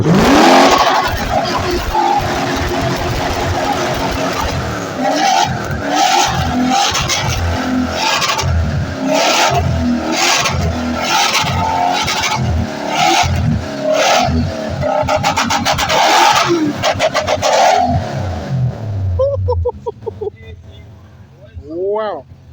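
A 1UZ-powered Toyota DX spin car with a straight-pipe exhaust revs hard in loud, repeated pulses close by, then the engine note drops away to quieter sounds at the end, with people talking over it.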